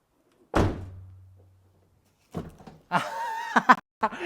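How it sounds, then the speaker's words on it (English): A 2003 Toyota Matrix car door shuts with a single solid thunk that rings briefly, followed after a pause by people talking and chuckling. "I'm gonna close the door."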